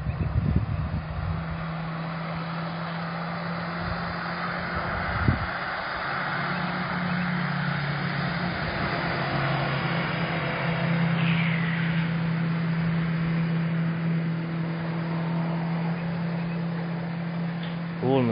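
A motorboat travels along the Desna river, a faint, steady engine drone heard from a distance across the water beneath wind noise and outdoor ambience.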